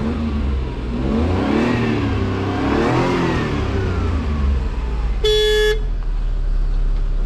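A Mini Cooper's engine hums and revs continuously on a test drive, rising and falling in pitch. A single short, sharp horn toot sounds near the end.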